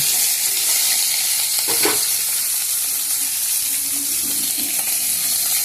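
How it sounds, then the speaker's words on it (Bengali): Chopped vegetables frying in a hot pan with a loud, steady hiss of sizzling and a brief clatter of stirring partway through, close and continuous. "এবারে আমি সমস্ত কেটে রাখা সবজিগুলো আমি এর মধ্যে দিয়ে দিলাম।"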